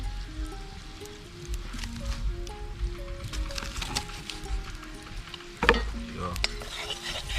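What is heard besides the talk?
butter melting and sizzling in a pan with chopped garlic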